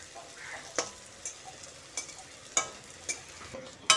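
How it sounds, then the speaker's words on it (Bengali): Plantain koftas turned over in hot oil, a quiet continuous sizzle broken by sharp clicks of a utensil against the pan every half second or so, no voices. "এইভাবে ধোকাগুলোকে উল্টে পাল্টে ভালো করে ভেজে নিতে হবে।"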